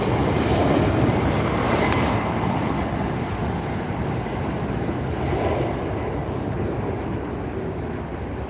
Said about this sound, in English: Aeromexico taking off now.